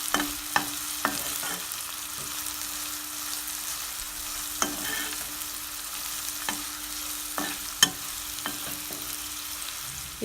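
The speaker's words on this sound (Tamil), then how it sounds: "நல்லா வதக்கி விட்டுருங்க" Onion with salt sautéing in a pan, a soft steady sizzle broken by intermittent scrapes and taps of a spoon stirring, close and quiet with no talking.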